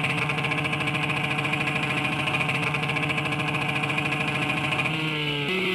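A BMW 1200 motorcycle with a loud exhaust pipe idles steadily and close, its even droning note holding for several seconds before dipping briefly near the end.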